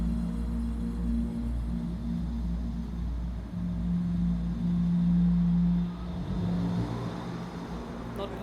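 Ambient soundscape from the video game Unrailed: a steady, dense low rumble like a distant engine, with sustained humming tones that swell near the middle and ease off, continuous throughout with no voices.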